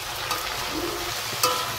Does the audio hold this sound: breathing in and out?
no